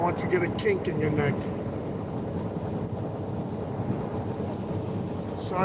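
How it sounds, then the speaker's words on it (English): Steady high-pitched buzzing from a vibrating car windshield while driving, constant and loud throughout over road and cabin rumble, with voices talking early on. "Must be the vibration on the windshield."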